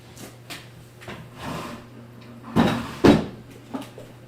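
Drawers being pulled open and pushed shut in a home painting area while searching for black paint, with several soft knocks and slides building to two louder thumps near the middle, close by over a steady low hum.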